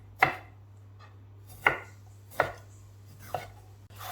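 A knife chops pear halves on a cutting board, four sharp, distinct strikes spaced unevenly, close and alone with a steady low hum beneath.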